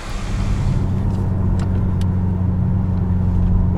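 BMW car with an Akrapovic exhaust, heard as a loud, steady low engine drone and rumble that holds without a break, with a few faint higher noises over it and no talk.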